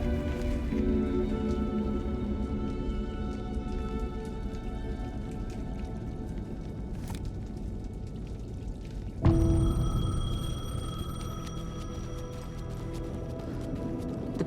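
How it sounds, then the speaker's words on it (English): A payphone rings in a rainy night scene from the Alan Wake 2 game, steady rain patter throughout, with a louder ringing burst starting near the end, no talk. "payphone was ringing"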